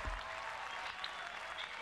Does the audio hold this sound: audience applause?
yes